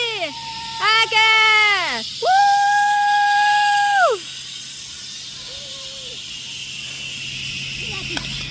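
A child screams in long, rising and sustained bursts while riding down a zipline at an adventure park in Tartu, loud and close, with shorter squeals trailing off after.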